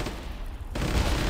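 Airstrike explosions in a military video game: a dense rumbling barrage of booms and gunfire that swells louder partway through, close and continuous.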